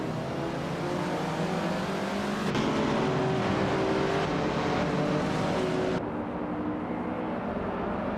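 Classic 1968 Porsche 912 race cars roar around the Road Atlanta short track in a racing video game, a steady engine drone with gear changes and shifting pitch, and no talk.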